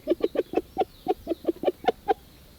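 A rooster clucks in a rapid, steady series of about a dozen short, evenly spaced notes, close and clear against a quiet outdoor background.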